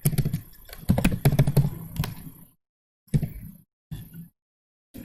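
Keys clatter on a computer keyboard as code is typed during a Python lesson, coming in quick close bursts separated by short pauses, with no talking.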